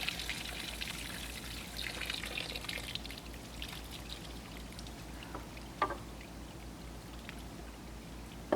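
Wool being rinsed in cold water, with soft pouring and trickling sounds running steadily at low level, plus a few small splashes and knocks near the end.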